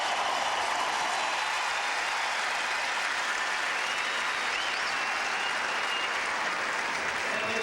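A tennis crowd at the 2005 US Open applauds Taylor Dent in a dense, sustained roar of clapping that holds at steady loudness for the whole stretch, faint commentary barely beneath it.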